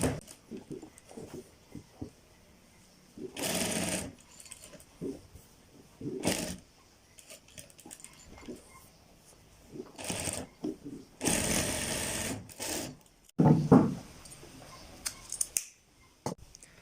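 Domestic sewing machine stitching a set-in shirt sleeve, heard in several loud bursts of rapid whirring separated by quieter handling noises and pauses.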